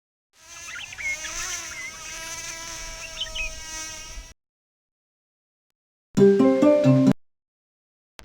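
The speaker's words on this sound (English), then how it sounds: "Did you know that the buzz is the sound of a fly's wings moving?" A housefly's wings buzz steadily for about four seconds, a thin high drone with a slight wavering pitch, followed after a pause by a short burst of brighter tones.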